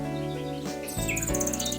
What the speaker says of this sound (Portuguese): O canto do rouxinol é considerado um dos mais elaborados do mundo das aves.